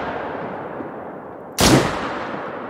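A single loud gunshot from a PC hunting video game, sharp and close, cracking in suddenly after a stretch of low steady background noise and then ringing out briefly.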